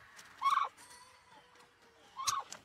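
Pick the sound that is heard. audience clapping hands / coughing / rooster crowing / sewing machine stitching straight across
rooster crowing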